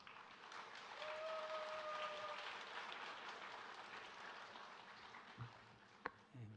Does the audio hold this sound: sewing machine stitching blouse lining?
no